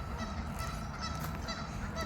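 Canada geese honk from down at a creek, their overlapping calls steady and moderately distant over a dense, continuous outdoor backdrop with no talking.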